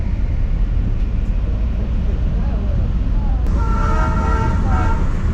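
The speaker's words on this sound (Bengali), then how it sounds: "এই যে এখানে ভেতরে ছিল ট্রেনটা, বাইরে এলো আবার চলে যাচ্ছে" Darjeeling Himalayan Railway toy train pulling out of a small hill station, a steady rumble running throughout with a tonal whistle or horn-like sound joining in the last two seconds, under continuous background noise.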